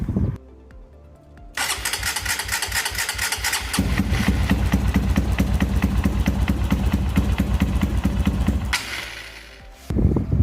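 A Honda CRF150L motard misfiring at start-up, its single-cylinder engine catching after a cranking whir, then running roughly and unevenly at close range with a harsh, stuttering idle before cutting out near the end.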